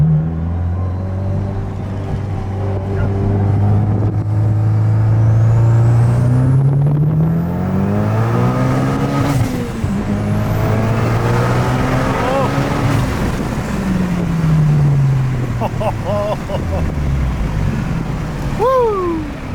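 A 640 awhp 2023 VW Golf 8R accelerating hard on a dyno, engine note climbing steadily through gears with brief dips at shifts, loud and close under wind-like roar, with a voice talking over part of it.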